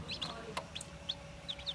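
A newly hatched chick inside a model D84 egg incubator gives several quick, faint, high peeping chirps spaced irregularly over a low machine hum.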